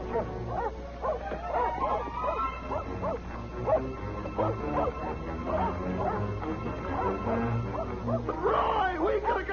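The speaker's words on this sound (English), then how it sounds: "Turn the dogs loose." A pack of dogs turned loose barks, yips and whimpers excitedly in an outdoor Western chase scene, the barking continuous and fairly close while people talk over it.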